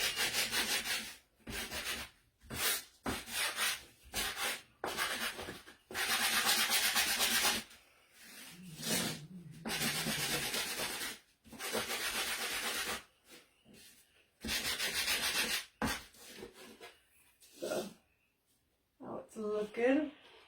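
Repeated bursts of sanding on a metal pan surface, harsh and close, coming in strokes of a second or two separated by brief pauses, with a crafter's voice heard briefly near the end.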